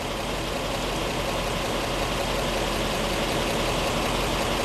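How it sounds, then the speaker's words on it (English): Engine of a 1917 Cadillac convertible running with gasoline fuel pressure kept up by an engine-mounted air pump, a steady, even mechanical rumble and hiss that stays constant at moderate level throughout, with no talk. "As this machine is running, there's an air pump on the engine that will maintain the gasoline fuel pressure."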